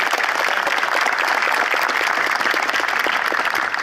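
Audience applause at an agricultural panel event in Hatay, Turkey, as a speaker is invited to the podium; dense, steady clapping fills the room throughout without pause.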